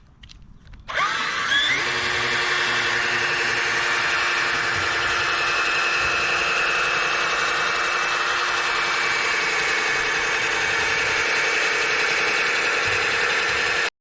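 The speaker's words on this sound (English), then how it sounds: "Applying polishing." Electric polishing machine buffing the faded lenses of 15-year-old car headlights, starting up after a brief quiet moment and then running as a steady, close, unbroken whir for the rest of the stretch, with no talk.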